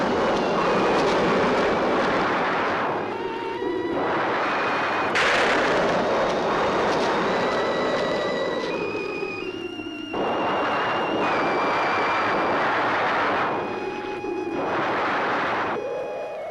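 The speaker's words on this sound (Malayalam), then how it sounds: "ഇടിയും മഴയും വരണുണ്ട്." Thunder rolls in as rain approaches in a night scene from an old Malayalam film: long, loud booming rumbles that swell and fade several times over a steady rushing backdrop, with sustained musical tones and no speech.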